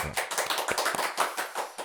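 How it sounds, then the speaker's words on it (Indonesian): A short burst of brisk clapping from a small group during a podcast recording, quick irregular claps lasting under two seconds, close and moderately loud. "tepuk tangan sekali lagi teman-teman"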